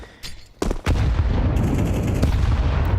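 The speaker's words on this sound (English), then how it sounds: "Another good grenade, this time going to be landing on Lakalzi down in second middle" A grenade blast in Counter-Strike 2, heard as a few sharp shots followed by a heavy booming explosion that rolls into a sustained loud rumble with gunfire sounds around it.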